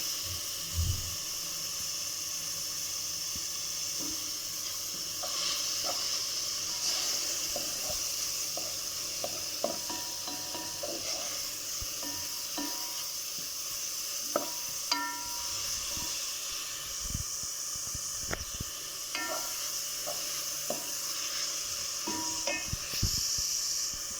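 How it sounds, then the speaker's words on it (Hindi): Chopped onion, bell pepper and finely cut green chilies frying in a pan, a steady hiss and sizzle with scattered soft clinks and stirring scrapes throughout. "जैसे प्याज हल्का सा फ्राई हो जाए और हल्का सा सोते हो जाए तो फिर आप इसमें एक कटे हुए बेल पेपर और 2 कटी हुई बारीक हरी मिर्च वो भी ऐड कर दें"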